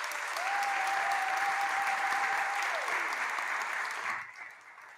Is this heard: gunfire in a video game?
no